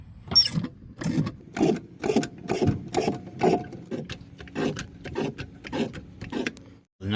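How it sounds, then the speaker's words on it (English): A floor jack is pumped up beneath a car's pinch weld, giving about a dozen evenly spaced ratcheting clacks, each stroke a sharp metallic click over a low mechanical thud, close and clear with no talking. "Bring your jack up."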